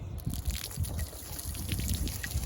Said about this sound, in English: So I am ready for the water hose.